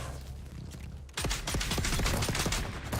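Pistol fire in the video game Dune: Awakening, a rapid cluster of sharp shots starting abruptly after a quiet second and continuing as dense overlapping bursts, loud and close.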